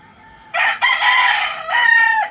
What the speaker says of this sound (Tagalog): Diba, ang iingay ng manok.